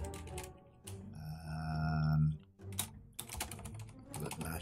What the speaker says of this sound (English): Doing a lot of typing in this episode, seemingly.